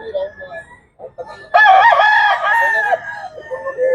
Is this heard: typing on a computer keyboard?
no